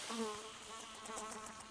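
Flies buzz in a Minecraft game, a continuous, faint, wavering insect drone with fluttering pitch lasting under two seconds, heard alone without speech.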